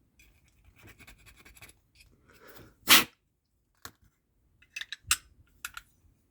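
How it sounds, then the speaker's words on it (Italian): Plastic arm of a Mazinga Z model kit scraping and clicking inside its groove, heard as faint, close, irregular scratches and small clicks with one louder rasping rub, with no talk. "Adesso il rumore che sentite è soltanto questo all'interno qua della"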